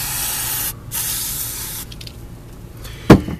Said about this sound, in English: It's a spray can. But it's a good kind of spray can.